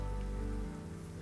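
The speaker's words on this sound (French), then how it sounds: "regarder la pluie tomber" Rain falls steadily in a continuous, even wash with a low rumbling undertone that eases slightly partway through; no voices.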